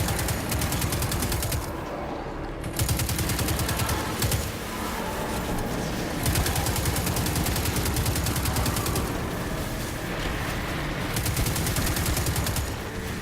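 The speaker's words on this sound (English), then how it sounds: "That must be my Skathalak auto rifle" Skathalak auto rifle fire in the video game Destiny 2, sustained rapid automatic bursts that rattle on almost continuously, loud and up close, broken by a few short pauses between volleys.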